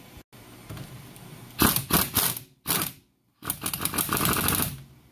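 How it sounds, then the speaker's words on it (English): A three-jaw puller working a wheel bearing off its seat, heard as several bursts of harsh grinding and scraping, loud and close, broken by short silent gaps. "So I've got a 3-jaw puller here, and we're gonna zap that sucker off."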